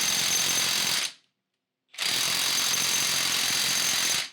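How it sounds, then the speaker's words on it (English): Impact wrench hammering on a brake nut on a Jeep TJ during a big brake kit install, two loud sustained rattling bursts close by separated by a short pause. "just crank the living shit out of it with an impact"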